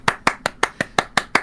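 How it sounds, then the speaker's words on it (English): Steady hand clapping during an esports match broadcast: eight crisp, evenly spaced claps in quick succession, close and fairly loud. "You get a clap."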